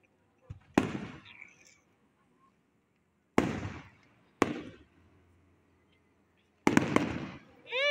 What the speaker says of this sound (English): Oh, yes, good fireworks.